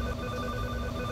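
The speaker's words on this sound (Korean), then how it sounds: "김영남 씨가 주문 전화를 받고 능숙하게 닭을 튀깁니다." A telephone rings with an incoming order at a small fried chicken shop, a continuous electronic ringing tone heard at low level across the whole moment, with no one speaking.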